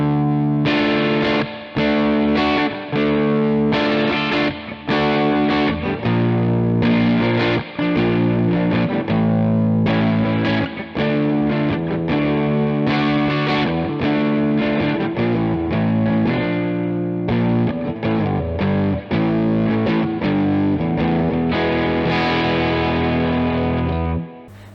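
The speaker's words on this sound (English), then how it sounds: "This is a 30 watt tube amp, single channel, basic EQ, master volume." Electric guitar played through a Ratajczyk Cream Reverb, a 30 watt single-channel tube amp with master volume, sounding thick and distorted with a chorus-like shimmer; sustained chords and riffs ring out loud and continuous, with no talking.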